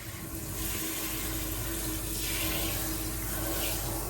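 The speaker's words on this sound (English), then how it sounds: "Come on in the bathroom. It's time for a shower." Shower water runs steadily inside a narrowboat bathroom, a continuous close hiss and splash with slight shifts as the spray moves, with no talk.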